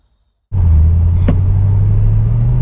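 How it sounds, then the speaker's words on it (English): A 2024 Bentley Continental GTC Edition 8 starts moving after a moment of silence, its engine a loud, steady low rumble heard close from inside the car as it pulls away. "Let's take this baby out for a spin."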